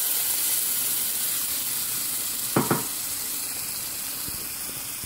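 Ground masala paste fries in hot oil for a brinjal masala curry, giving a steady soft sizzle and hiss throughout, broken by a couple of brief clinks from stirring near the middle.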